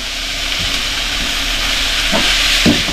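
Mixed beef innards, tripe, intestine and fat, sauté in a pan with a steady, loud sizzling hiss and a few soft stirring knocks.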